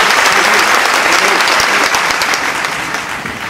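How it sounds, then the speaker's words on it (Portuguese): Dense, loud audience applause at an aquarium technology lecture, a continuous wash of clapping that fades slightly toward the end. "Uma salva de palmas, pessoal."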